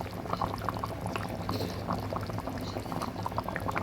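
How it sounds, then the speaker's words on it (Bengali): Koi fish curry bubbles steadily in a pot, a dense, continuous simmer with small pops and gurgles close by, no voices over it. "কিছুক্ষণ ফুটতে দিচ্ছি কনের জন্য মাছগুলো ফুটতে দিয়েছি"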